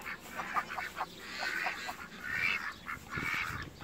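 Geese on a farm honk repeatedly and excitedly, several birds calling over one another at close range, loud nasal honks coming in bursts.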